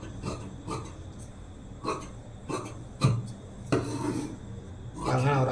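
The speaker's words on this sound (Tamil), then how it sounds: "அந்த மார்க்லேயே அப்படியே கட் பண்ணி எடுத்துடலாம்" Scissors snip through blouse fabric along a marked line, a series of short, crisp cutting crunches at an irregular pace, close and moderately quiet.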